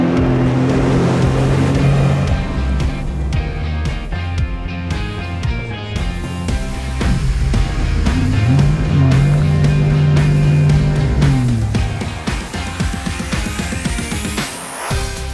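A jet ski runs fast on open water. Its engine drones loud and steady throughout, rising and falling in pitch, while water rushes and splashes underneath.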